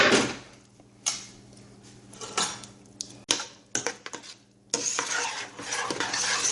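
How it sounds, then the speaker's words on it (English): Roasted pumpkin soup with cream and fresh parsley stirred in a pot, irregular clanks and scrapes of a utensil against the metal, then a denser bubbling sizzle, close and moderate. "Go ahead and give this a stir."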